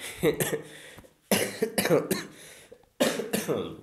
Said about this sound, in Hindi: खांसी है